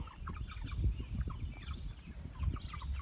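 Meat chickens about six and a half weeks old on a family farm, a flock chirping and clucking softly nearby in scattered overlapping calls, with shuffling and low rumbling underneath.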